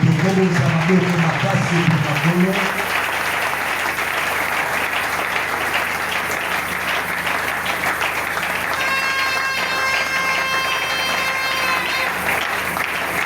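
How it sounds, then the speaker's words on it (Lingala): A church congregation applauds the Lord during a French-language service, producing dense, steady clapping that fills the room for the whole stretch, with sustained keyboard-like tones entering faintly near the end. "Est-ce qu'on peut offrir des applaudissements pour le Seigneur?"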